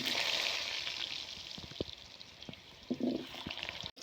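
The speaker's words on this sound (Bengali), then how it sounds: "আগে আলু ভেজে নেব আলু ভাজার জন্য তেল" Potatoes frying in hot oil for a village-style chicken dish give a close, steady sizzling hiss, broken by a few soft clatters and a brief stir near the end.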